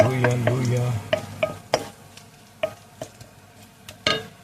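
Ginger sautés in a pan for a mackerel dish, a soft sizzle under a few sharp scraping stirs and spoon knocks that come at irregular intervals.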